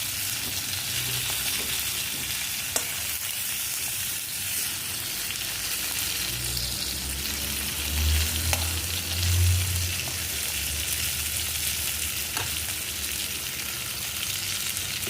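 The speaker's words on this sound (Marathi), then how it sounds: "त्या मसाल्याच्या बाटलमध्ये पण आपण थोडेसे वांगे परतून घ्यायचे" Stuffed brinjals frying in homemade black masala in a pan, a continuous close sizzle with low bubbling rumbles and occasional faint stirring scrapes, no voices.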